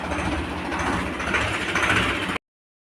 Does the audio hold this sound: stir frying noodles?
no